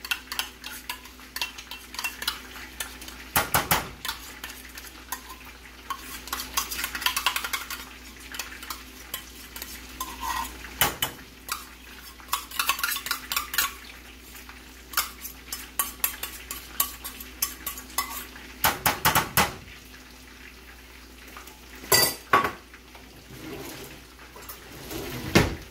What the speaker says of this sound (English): Get us a nice little stir.